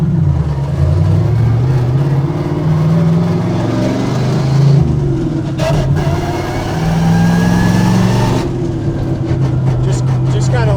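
Engine of a manual stick-shift drag racing car, loud and close, its revs dropping between gear shifts as the clutch is used, with steady droning tones that sag and then settle before the next gear.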